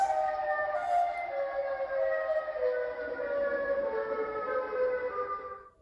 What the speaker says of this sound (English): Just the sound of a normal siren is eerie enough.